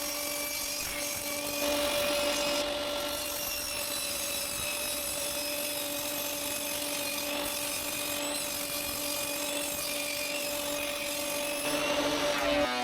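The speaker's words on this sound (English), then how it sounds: "When the glue has dried, I cut off the edges so that the glue boards are 30 centimeters wide." A saw trims the edges off glued-up wooden boards to bring them to 30 centimeters wide, running as a steady, loud whine with a constant hum throughout and no talk.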